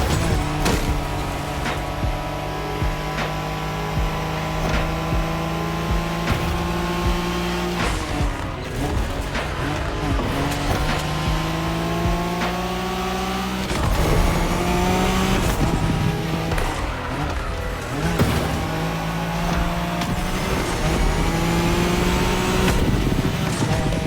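A Nissan Skyline racing the Wangan expressway route in The Crew Motorfest, its engine droning and climbing through gear changes with sustained high-speed roar and occasional tire squeal, loud and continuous without any talk.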